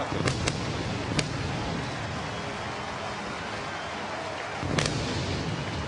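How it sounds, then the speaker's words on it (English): Fireworks launched at Great American Ballpark after a Cincinnati Reds home run: a few sharp cracks and pops over a roaring stadium crowd, with a louder burst near the end. "that's enough to shoot the fireworks off at Great American Ballpark"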